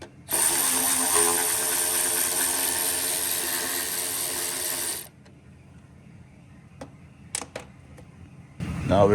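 Power tool spinning out 10 mm heat shield bolts under a 2010 MINI Cooper, a loud, close whirring buzz lasting several seconds, then quiet with a few clicks and clinks of parts before a short burst of motor noise returns.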